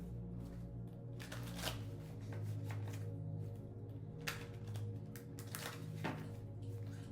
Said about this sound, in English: For the collective, I'm going to be using the Santa Muerte deck.